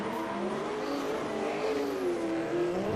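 Drift cars warming up at a Manfeild drift event, a continuous loud engine rumble and roar with slowly rising and falling revs, steady throughout with no talk.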